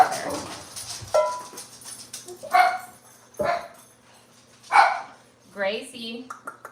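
A dog barks several times in short, loud bursts nearby in a kitchen, spaced irregularly, with a person talking between the barks.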